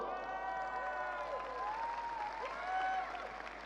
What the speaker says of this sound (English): I'm pretty sure you can add more noise for this. Applause!